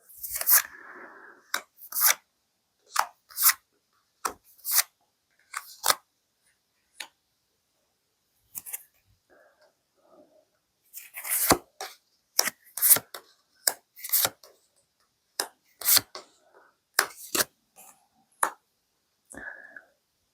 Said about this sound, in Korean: 카드에 투영하면서 진지하게 카드를 뽑을게요